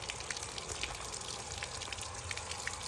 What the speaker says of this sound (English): Filling it up with water, but see it's coming out.